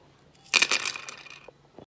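A handful of pennies drop and clatter together in a quick metallic jingle, a short burst of close clinking that tapers off into a final ring.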